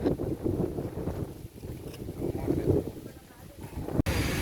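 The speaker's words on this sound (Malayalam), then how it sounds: "ബോട്ട് പുറപ്പെട്ടു" A passenger boat pulls away from a jetty on the Kochi backwaters, a deep engine rumble mixed with heavy wind buffeting on the microphone. The noise is steady and loud, with a sharp knock near the end.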